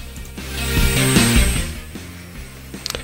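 A CNC machine mills a wooden board with a continuous grinding, rasping cut that rises and falls in pitch as the tool moves, close up, ending in a few small clicks, with no talking.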